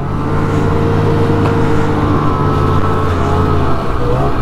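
A snowmobile cruises steadily down a snowy trail in Illinois, its engine a loud, close, continuous drone holding an even pitch with no breaks or voices.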